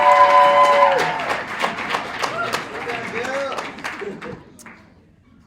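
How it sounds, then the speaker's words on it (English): An evening audience at a paediatrics presentation applauds the next speaker, a crowd clapping that is loudest at the start and thins out over several seconds, with voices and some talk mixed in. "So let's have a nice big applause for Kim."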